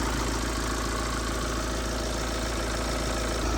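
A Cat S Mini Cooper S engine idles as it warms up to temperature, a constant, even mechanical hum with a faint steady tick and no change in revs.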